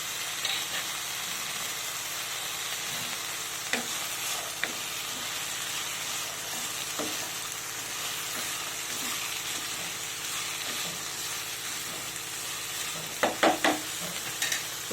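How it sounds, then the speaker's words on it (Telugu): Peas sizzle and fry steadily in a pan of potato peas curry, a constant close hiss with occasional soft stirring scrapes and a few clinks near the end. "బఠానీలు కూడా వేసేస్తున్నాము"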